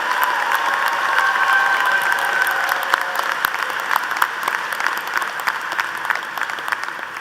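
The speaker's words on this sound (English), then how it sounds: "Let's give these scholars one more round of applause for this significant accomplishment." A large audience at a university commencement ceremony gives sustained applause. The dense clapping is fairly loud and fades gradually over several seconds without talk.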